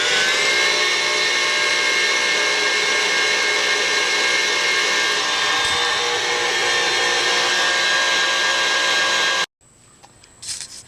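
An electric mixer whirs steadily and loudly, blending cookie dough ingredients of vanilla, salt and other mixings, then cuts off abruptly near the end, leaving faint kitchen noise.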